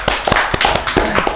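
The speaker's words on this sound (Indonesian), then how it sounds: "Tepuk tangan dulu untuk Mr. Puisi, teman-teman." A small group claps in brisk, uneven bursts at close range, sharp slaps with no voices over them.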